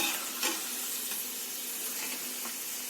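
Masala peanuts fry with curry leaves in a steady, loud, close sizzling hiss with small crackling pops throughout.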